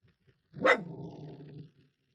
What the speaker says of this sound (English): Hey, you guys stop barking down there?